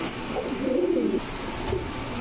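Rajshahi Giribaz pigeons give a soft, low rolling coo near the middle, close by and fairly quiet over a faint background hum.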